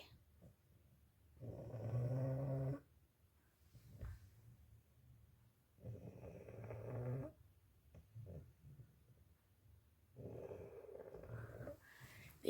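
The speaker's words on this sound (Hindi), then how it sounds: "कोई कह सकता है कि ये डॉगी खर्राटे लेता है" A dog asleep in a bedroom snores lightly, with three slow, drawn-out snore bursts separated by quieter breathing pauses, close and alone.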